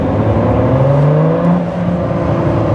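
A Ford GT's V6 engine revs loudly up close, a rich droning tone that rises in pitch and dips briefly before holding steady, with no talk over it.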